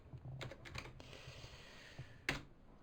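Keys on a computer keyboard are tapped while a file name is entered in 3D software, giving a short burst of quiet, close clicks followed by a pause and a final sharper keystroke, with no talk.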